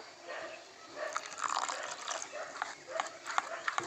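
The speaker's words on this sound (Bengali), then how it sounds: "ব্যাটারটা অনেকটাই ঘন হয়ে গেছে এবার আরেকটু জল দিয়ে দেব" Water poured into a thick semolina batter in a home kitchen, a faint, close trickling and splashing with a few soft drips, quiet and alone.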